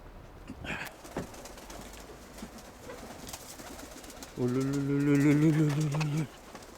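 Outdoor evening ambience with scattered noises, then a clear, close pigeon coo lasting under two seconds near the end.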